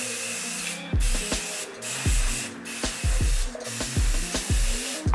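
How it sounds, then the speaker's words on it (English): Hairspray or holding spray hisses onto a wig cap for a curly quickweave, in several short close bursts with clicks and handling knocks between them. "I spray a little bit of like hairspray or like holding spray on there too"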